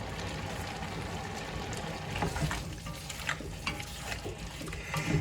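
Cubed potatoes and vegetables with cardamom and cayenne cook in a pan, a low continuous sizzle with occasional soft stirring scrapes, fairly quiet.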